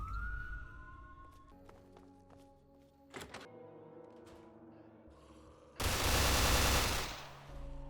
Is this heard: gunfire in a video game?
yes